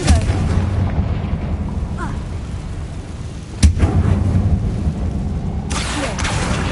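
A Confringo fire-blast spell explodes in Hogwarts Legacy: one sharp, loud burst lands mid-clip over a steady low game rumble, with a brief crackle of fiery noise trailing after it.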